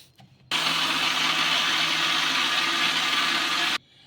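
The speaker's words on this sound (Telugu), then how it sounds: "నీళ్ళు ఏమీ వేసుకోకుండా మిక్సీ అయితే పట్టేసుకుందాము" A kitchen mixer grinder runs for about three seconds, grinding leftover cooked rice without water, a loud steady whirring roar that cuts in after a short pause and then stops abruptly.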